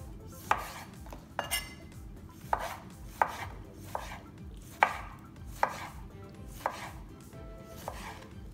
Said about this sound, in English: So now with the tomatoes, the same way, you can cut it.